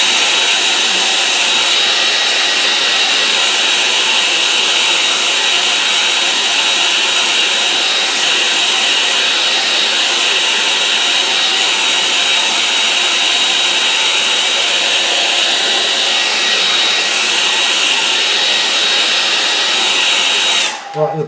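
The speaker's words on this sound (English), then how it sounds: "let's dry it off now with a hairdryer" A hair dryer drying watercolour paper blows continuously at close range, a steady loud whooshing hum that runs unbroken before clicking off at the end.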